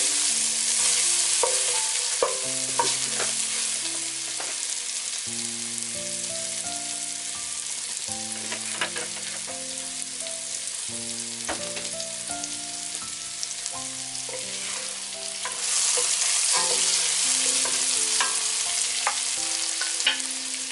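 Pork and chicken frying in vegetable oil for Filipino adobo, a steady close sizzle with stirring scrapes over continuous background music.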